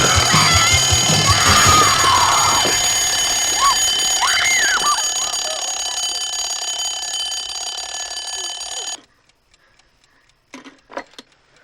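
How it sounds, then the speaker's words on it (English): Alarm clock going off in the 1984 film Nightmare on Elm Street, a loud continuous ringing with tonal noises over it that stops abruptly, followed by a few faint knocks. "her alarm clock going off"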